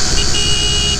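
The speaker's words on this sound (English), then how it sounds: "Horn works nice." A 1975 Can-Am TNT 250 motorcycle horn gives one steady, loud electric buzzing tone lasting about a second, sounding alone without any talk.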